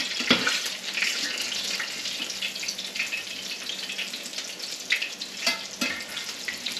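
Panko-breaded flounder fries in about a quarter inch of hot oil over medium-high heat, giving a steady crackling sizzle with sharper pops and spatters, close-up and uninterrupted by talk.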